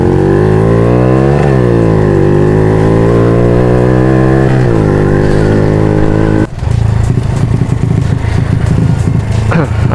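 A Honda Supra motorcycle with a quiet aftermarket silencer revs steadily and loudly up close, its pitch rising and falling, then cutting to a rougher, busier idle partway through.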